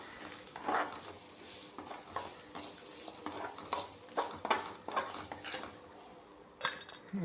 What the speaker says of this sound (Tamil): அப்புறமா தோலை போட்டு வதக்கணும்